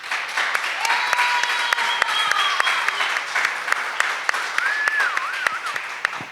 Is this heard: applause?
yes